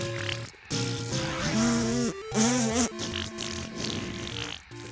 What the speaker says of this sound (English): That was a good theme song with farting sounds